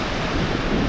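Waves of the Irish Sea wash onto the shore in a steady, broad rush, mixed with wind buffeting the microphone, close and continuous with no voices.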